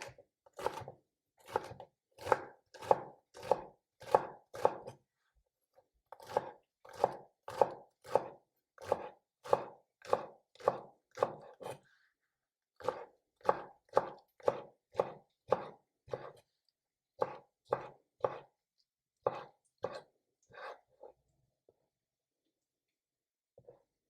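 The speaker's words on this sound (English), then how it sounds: "I think I will chop the leaves the way we do herbs" A knife chops herb-like leaves on a board in quick, evenly spaced bursts of crisp taps, pausing briefly between runs, close and clear with no voices.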